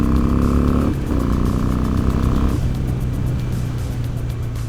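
A Harley-Davidson motorcycle engine pulls past a car, a loud close rumbling drone that shifts pitch partway through as it accelerates, then settles into a steady lower hum, heard from the rider's position with no talking.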